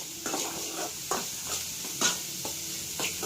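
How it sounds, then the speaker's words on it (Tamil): Onions sautéing in a pan with a steady sizzle as a spoon stirs them in repeated scraping strokes, close and fairly quiet, with no voices. "ஆனியன் வந்து பார்த்தீங்கன்னா நல்லா கோல்டன் ப்ரௌனிஷ் கலரில் வந்து வரணும்"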